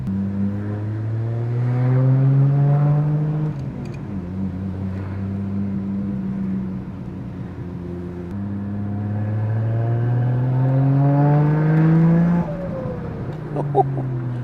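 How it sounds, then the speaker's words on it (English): A tuned Nissan GTR engine with 280-degree cams and a single turbo revs up and down in several long sweeps, rising to high revs and dropping back, loud and close from inside the car. "here we are in what I thought was a pretty simple tuned GTR. Just listen to this."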